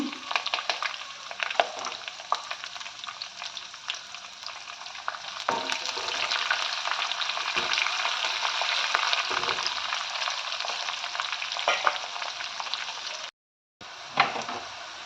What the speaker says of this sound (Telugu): జీడిపప్పు వేసుకోవాలి. ఇవి కొంచెం ఫ్రై అవ్వాలి.